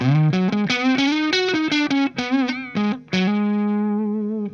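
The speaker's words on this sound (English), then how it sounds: "Let me go to the neck pickup and you can hear this is humbucker mode." A distorted electric guitar on its neck pickup in humbucker mode plays a warm, thick melodic line of separate notes with a chorus-like shimmer, ending on a sustained ringing note.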